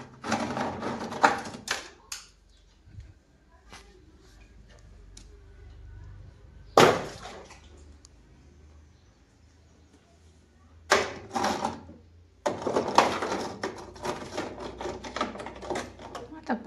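A home sewing machine stitches blouse pieces in short bursts of rapid whirring stitches separated by quiet pauses, with a longer run near the end and a voice talking in between.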